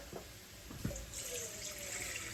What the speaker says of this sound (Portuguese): Vou colocar um pouco de água nesse repolho.